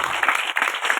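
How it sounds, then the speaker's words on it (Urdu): Applause for Jesus Christ rises from the congregation during a church sermon on healing from leprosy: a dense, continuous patter of many hands clapping together, steady and fairly loud for about a second, with no voices over it. "زوردار تالیاں خداوند یسوع مسیح کے لیے"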